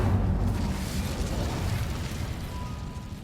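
Incendio fire spell cast in Hogwarts Legacy, a loud whooshing, roaring burst of flame that slowly fades over a few seconds.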